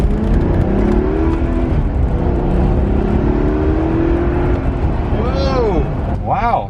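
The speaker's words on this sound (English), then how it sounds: "It's got like the throttle little blipping coming off and on with the clutch" A Maserati engine blips its throttle between gear shifts while the car is driven. There is a steady, close engine drone with a few rising and falling revs, and people talk over it.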